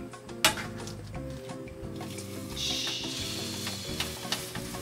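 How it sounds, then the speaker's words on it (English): Turkey burgers seasoned on the outside fry in just a tiny bit of oil, giving a steady close sizzle and crackle with a few sharper pops, over a low background hum. "We are going to be cooking our turkey burgers now. Just a tiny bit of oil."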